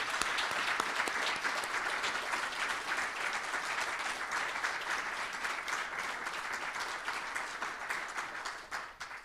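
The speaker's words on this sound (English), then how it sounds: "Please give Marius a warm round of applause" Steady, dense applause from a university audience after Prof. Marius Crous's inaugural lecture, sustained at an even level for about nine seconds before tapering slightly at the end.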